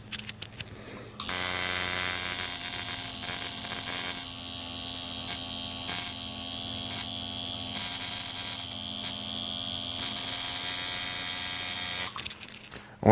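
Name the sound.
tattoo machine buzzing while lining a tattoo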